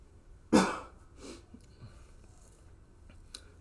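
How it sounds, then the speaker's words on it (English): A single sharp cough breaks a quiet room, followed by softer breaths and throat noises, then another brief cough near the end. "Sorry about the coughs."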